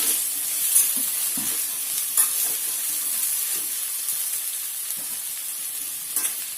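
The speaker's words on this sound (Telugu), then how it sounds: "ఒకసారి అంతా కలుపుకోండి" Peas and cauliflower curry being stirred in a pan, a steady soft sizzle with scraping spoon strokes throughout, no voices.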